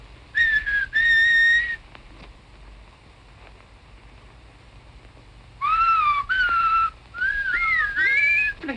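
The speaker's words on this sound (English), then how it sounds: "I heard somebody whistle, and I'm fond of whistling." Someone whistles short melodic phrases, two bursts at first, then a longer run of rising and falling notes after a quiet pause.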